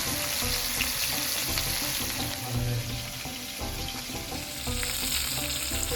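Fish fries in a pan with a continuous, close crackling sizzle and scattered pops that hold at an even level throughout, with no voices.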